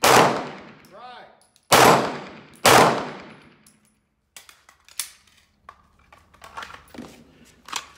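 Three loud Glock 45 handgun shots fired at targets 25 yards away, about a second apart, each with a sharp crack and ringing decay, followed by faint clinks and handling noises.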